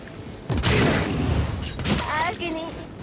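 Bursts of gunfire from the turn-based game Warhammer 40,000: Rogue Trader: two loud volleys about a second apart, each a dense rattling blast that tails off, with a voice talking over the end.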